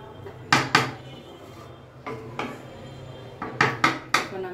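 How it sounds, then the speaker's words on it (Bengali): A lid and spoon clatter against a pot of cooked chicken biryani as it is flipped and covered, giving several sharp metallic clanks in quick pairs, close and distinct against a quiet room. "এখন আমি উল্টিয়ে দিয়ে ঢেকে রাখবো।"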